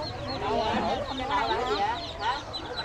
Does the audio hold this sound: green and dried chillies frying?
no